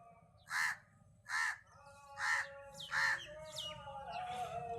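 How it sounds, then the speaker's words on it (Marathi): A crow caws four or five times in a slow, evenly spaced series, fairly close, over a low background hum of traffic or machinery. "हे कावळे इथं बघू शकता."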